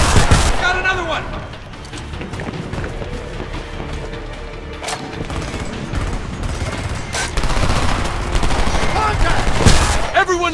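Intense gunfire in the Homefront video game, loud sustained bursts of automatic fire and heavy shots mixed with booms, continuing under shouted voices throughout.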